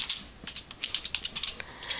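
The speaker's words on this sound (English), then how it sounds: "I'm going to type hidden traps." Quick, light keystrokes clatter on a computer keyboard in an irregular burst of about a dozen taps, close and fairly quiet, with no one speaking.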